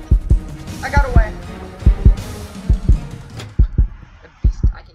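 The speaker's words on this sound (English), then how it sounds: "The beast, I can hear heartbeats." A heartbeat in the Roblox video game thumps in steady doubled pulses, loud and close, repeating throughout with a brief higher tonal sound early on.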